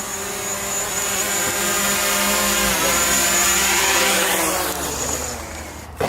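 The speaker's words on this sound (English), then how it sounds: "the plan was to get out here and test this drone" A drone in flight during a test outing, giving a loud, steady rotor drone with a high tonal whine that holds for several seconds, then cuts off abruptly near the end.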